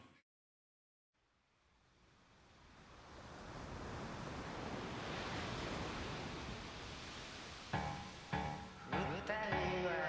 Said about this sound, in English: We opened with the sound of waves, like literally